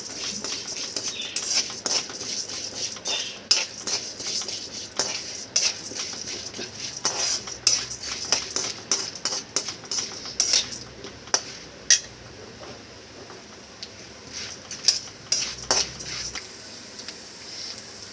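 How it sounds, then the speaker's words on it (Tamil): White urad dal is dry-roasted and stirred in a pan, making a continuous patter of rattling grains and metal scrapes that comes in uneven bursts. "உளுந்து நல்லா கலர் மாதிரி வர வரைக்கும் நல்லா வறுத்துக்கலாம்."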